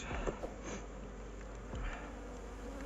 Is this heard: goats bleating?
no